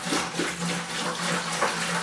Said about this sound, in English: we're gonna open up our ciders and we're gonna pour them in our sanitized bucket